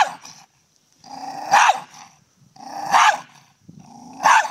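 A miniature pinscher growls and barks up close, loud low growls running into three sharp bursts of barking at steady intervals, with no talk over them.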